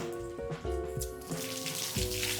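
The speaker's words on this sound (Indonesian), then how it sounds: "ini ada mini waterfall, kita hidupin ya" A small indoor mini waterfall feature at a luxury villa comes on, water splashing and trickling into the basin below with a steady close wash and some clinking, gurgling tones.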